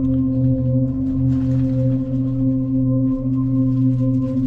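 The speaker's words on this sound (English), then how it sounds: "Ambient reverb." A sustained, shimmering wash of reverb-soaked guitar tone, steady chords ringing with long ambient tails and no other sounds.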